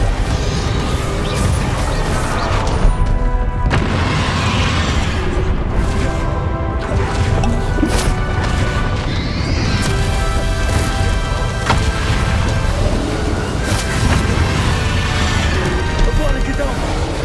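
Bombarda blasting spells explode in the video game Hogwarts Legacy, making repeated booms and crashes inside a dense, loud wash of battle noise and game sound, with voices heard in places.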